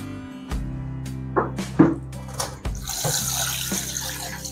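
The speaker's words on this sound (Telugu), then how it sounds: "చాప్స్ పీసెస్ బాగా వాష్ చేసుకోవాలి." Mutton chops are rinsed under a running kitchen tap. Water splashes intermittently, with hollow knocks and clatter of pieces in a bowl, building into a steadier gush toward the end. No one speaks.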